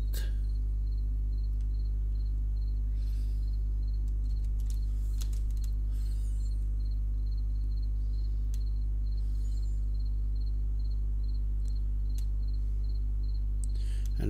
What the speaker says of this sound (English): And the crickets are playing their song for me in the night.